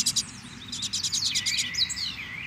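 Double-collared seedeater (coleiro) singing close by, with bright rapid chirping trills in quick bursts and clear high whistled phrases over a quiet background.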